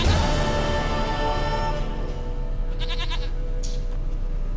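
Goat bleating in The Witcher 3 video game, heard as a few short bleats late in the passage over a dense, continuous layer of game music and ambience.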